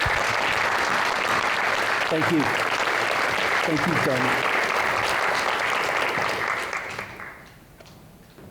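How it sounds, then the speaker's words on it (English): Sustained applause from a large audience at a State of the City address fills the hall, steady and loud before fading out near the end, with a voice briefly offering thanks over it. "So can you give them a round of applause and tell them thank you?"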